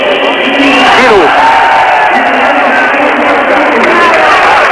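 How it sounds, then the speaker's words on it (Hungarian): A crowd in a handball arena cheers and roars for a player during the women's EHF Champions League final, Kometal Skopje against FTC in 2002, with a steady din and a commentator talking over it. "És Zsirut élteti a közönség"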